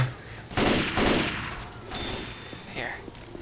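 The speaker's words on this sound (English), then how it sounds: "Dude just keeps shooting everyone." Left 4 Dead 2 gunfire crackles in dense, rapid bursts that run together for a few seconds, loud and close, then trail off into a quieter scene.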